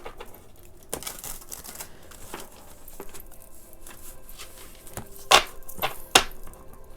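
A run of riffling, crackling clicks from a card shuffle, with a few sharper snaps and taps near the end, close and fairly quiet.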